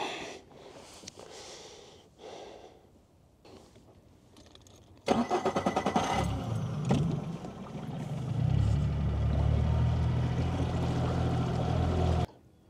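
A fishing boat's outboard motor starts with a burst and then runs steadily and loud for several seconds before cutting off, preceded by quieter handling noises, out on a shallow shoal while perch fishing in autumn.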